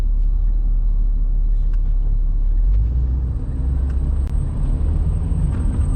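A 1967 Rolls Royce with a 6.2 engine accelerates on a test drive, its steady low rumble shifting pitch as it moves through the gears, loud and continuous from inside the car.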